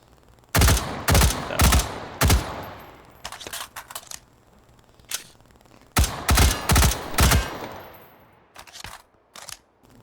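Gunfire from the VR shooting game H3VR: loud, close bursts of rapid shots in clustered volleys separated by short pauses, with a few lighter mechanical clicks between bursts.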